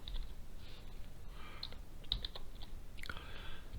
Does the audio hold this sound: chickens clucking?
no